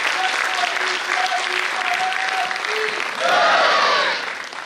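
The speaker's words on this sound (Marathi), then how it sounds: "एकदा जोरात टाळ्या वाजवून सगळ्यांचा आपण आभार मानूया" Audience clapping for performers called back to the stage, a sustained burst of applause from a hall crowd, with a voice rising briefly over it near the end.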